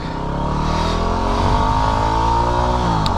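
A Yamaha WR250R dual-sport motorcycle pulls away in first gear, its engine note climbing steadily and loudly close by without any talk.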